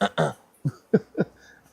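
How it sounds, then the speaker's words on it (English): A man clears his throat in a few short, rough bursts at close range, in a quiet room where he is smoking an H. Upman cigar. "Let me clear my throat."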